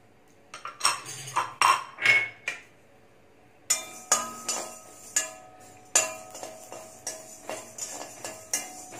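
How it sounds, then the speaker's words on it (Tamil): Mustard seeds roasting in a dry pan for mango pickle give a run of sharp metallic clinks and ticks, first scattered and then fast and regular, close and fairly quiet, with no talk. "அடுத்தது கடுகை வறுத்துருவோம்"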